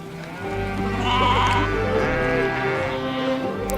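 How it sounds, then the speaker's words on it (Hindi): Sheep bleat in a close, continuous chorus as the milking flock is gathered and tied in a line in Ladakh, several overlapping cries over a low background hum. "भेड़ों का दूध निकालने के लिए ये सारी दूध देने वाली भेड़ों को इकट्ठा करके एक लाइन में आमने सामने बांधते हैं"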